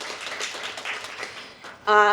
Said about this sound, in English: we should give her applause too, because she's just as amazing